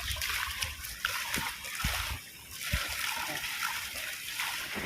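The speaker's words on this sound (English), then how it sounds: "When overflow, the water from the swimming pool fall down here in the drainage." Swimming pool overflow water spilling down into a drainage channel at a hotel pool, a steady rushing splash with gurgling surges, close and continuous.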